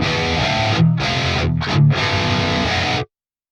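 Heavy distorted guitar riff run through a Fortin Nameless Suite X doubler at a 15 ms delay, sounding thicker and wider; loud, steady playing with short palm-muted gaps, no voices, cutting off sharply near the end.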